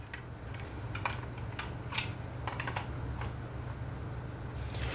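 Bolts on an exhaust fan motor are being undone by hand, giving sparse, sharp metallic clicks and ticks over a low, steady background hum.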